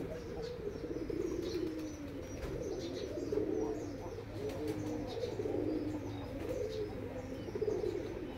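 Pigeons coo in a Bangladeshi village home yard, soft rolling calls repeating in waves over several seconds, with a few brief chirps and faint flutters nearby.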